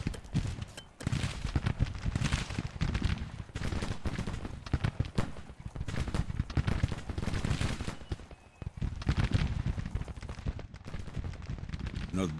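Musket volleys from a Civil War strategy game set in 1863, with Rebel troops and the Iron Brigade on the field: dense, continuous crackling gunfire of many rifles, rattling bursts overlapping without pause.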